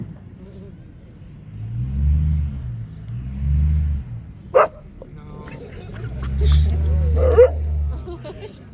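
A monk's companion dog on a peace walk in Good Hope, Georgia gives a few yips and soft whimpers amid low traffic rumble, with brief sharp sounds and people talking nearby.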